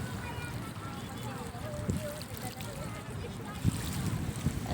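A boat rides the waves on Manila Bay, with a steady wash of water, engine rumble and wind buffeting the microphone, while people talk over it.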